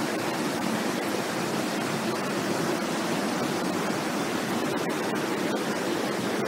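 Steady, full-bodied rush of water pouring down a stepped waterfall, constant and close, with no voices.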